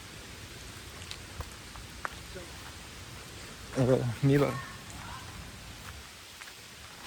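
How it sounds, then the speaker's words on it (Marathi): Rain falls steadily as a soft, even hiss with scattered drops, and someone speaks briefly partway through. "हे बघा कसं पाऊस आला ना म्हणून थोडा लपतोय."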